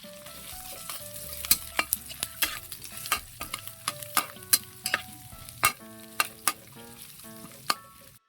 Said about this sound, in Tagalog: manggigisa na tayo. Lagay tayo ng mantika. Lagay tayo ng bawang, luya,